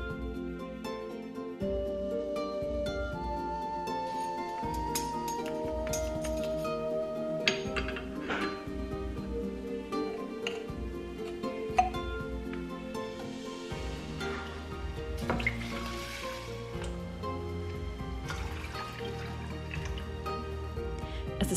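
Ginger, cinnamon, cloves and water being stirred together in a pot over open flames: soft metallic clinks, drips and gentle liquid sloshing, close and fairly quiet, with no talking.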